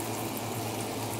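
An electric fan runs in a home kitchen while cube steak and onions cook, giving a loud, steady broadband whoosh with a low hum underneath and no voices.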